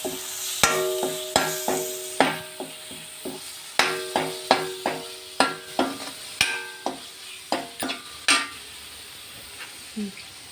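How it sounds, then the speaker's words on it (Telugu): Turmeric is stirred into a fish curry in a pan: a spoon strikes and scrapes the metal in a regular series of sharp clanks, about one every half second, over a soft background sizzle. "కొంచెం పసుపు వేసుకోవాలి. అలా బాగా కలుపుకోవాలి."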